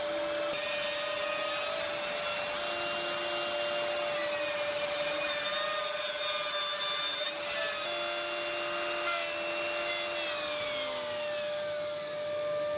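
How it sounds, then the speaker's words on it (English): Router with parallel pins cutting a recess into a multiplex plywood panel for a mobile modular workbench, a continuous loud high-pitched whine with a steady pitch and slight shifts as it moves, close up. "I do this again with the router and the parallel pins."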